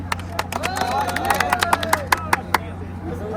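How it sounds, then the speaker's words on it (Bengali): An audience at a free SIM giveaway camp claps in scattered, uneven bursts over a steady background hum, with voices talking alongside. "সবাই হাতে তালি দেন"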